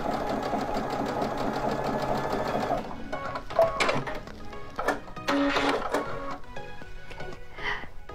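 A Baby Lock Altair sewing machine stitches fabric in a steady, fast mechanical whir for a few seconds, then slows and stops, followed by scattered clicks and handling noises at close range.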